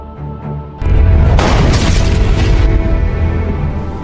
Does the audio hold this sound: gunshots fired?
yes